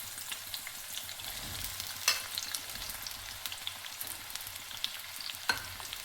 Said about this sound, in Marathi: सुरुवातीला तेलात कांदे टाकत आहे